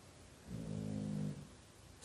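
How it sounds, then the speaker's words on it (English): Dogs snoring softly in the background of an indoor room, a single low, drawn-out rumbling breath lasting under a second amid quiet room tone. "snoring dogs in the background."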